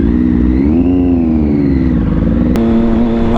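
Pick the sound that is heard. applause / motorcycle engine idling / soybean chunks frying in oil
motorcycle engine idling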